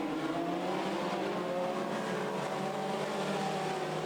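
Race cars on a dirt track at Buffalo River Race Park, a continuous distant engine roar that drones steadily throughout without pause, with no voices.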